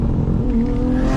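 A Nissan Skyline GT-R R32 with a big single turbo accelerates hard, its engine note rising steadily in pitch with a whirring whine, loud and close for about a second.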